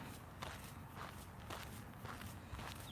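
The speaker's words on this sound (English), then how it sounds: "The sound of my footsteps is tuneful?" Faint footsteps from a person out walking fall in a steady, even rhythm of soft scuffing steps, roughly two per second, over a constant background hiss.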